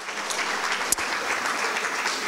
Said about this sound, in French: Je vous demande d'applaudir nos deux spécialistes de ce soir, Sophie Frein et le docteur Pierrick Cross.